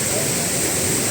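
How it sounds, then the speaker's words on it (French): An indoor waterfall inside a Bangkok shopping mall gives a loud, steady broadband rush of falling water that fills the whole moment without pause. "Il y a même des cascades. Regardez-moi cette cascade."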